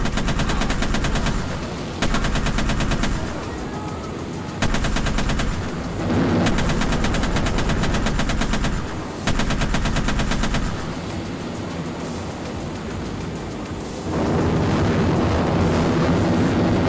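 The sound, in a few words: Su-35S Flanker machine gun firing in video game Arma 3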